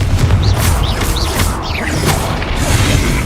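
A Confringo blast spell in Hogwarts Legacy, with heavy low booms and crashing bursts of impact rumbling loudly through the short moment, accompanied by sharp whooshing magical sweeps.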